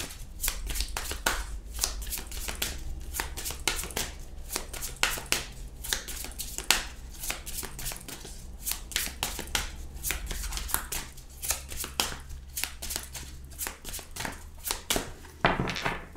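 A Mucha tarot deck being shuffled and cut by hand, dense rapid riffling card flicks and slaps continuing steadily and close up for the whole stretch, with no talking.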